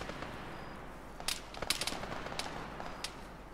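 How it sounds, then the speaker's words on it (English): Gunfire in the video game Arma 3: a handful of sharp shots, some in a quick cluster, crack over a steady background hum at moderate distance. "Oh, I love that sound of the gun."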